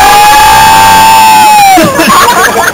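At a Conydance 2 dance event, a long, very loud sustained tone gives way to a crowd of fans shouting and cheering nearby.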